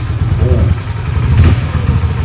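A motorcycle engine idles with a steady low rumble, close by, with brief revving swells and faint voice-like sounds over it.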